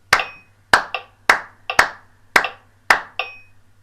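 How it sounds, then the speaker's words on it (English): Hand claps in a steady six-beat pattern, crisp and close, with a longer gap after the first clap of each pair so the beats fall in an uneven repeating rhythm; no talking. "just clapping the 6 beats just to get a feel for it"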